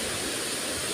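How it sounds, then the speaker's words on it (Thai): A waterfall at Ban Ta Ngoi in Tao Ngoi district roars as a dense, steady rush of falling water, loud and continuous with no voices. "พามาชมน้ำตกบ้านตะงอยอำเภอเต่างอย"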